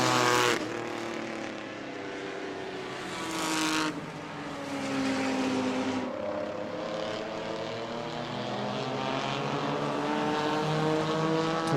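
Race cars in an enduro at New Smyrna roar down the back straightaway nose to tail, a continuous loud engine drone that swells and fades as the pack passes.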